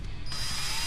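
An old electric drill spins a surface honer, a scuffing tool used to deglaze a brake surface during a wheel bearing job on a 1989–95 Toyota 4Runner or pickup. It makes a steady, close grinding whir that starts abruptly and runs throughout.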